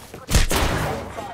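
A burst of gunfire in the Apex Legends video game, a sudden loud blast followed by a short rapid cluster of shots that fades within about a second.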